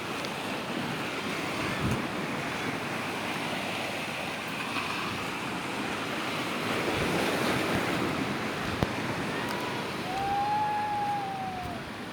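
Ocean waves wash continuously against the shore with gusty wind noise buffeting the microphone, and no voices are heard.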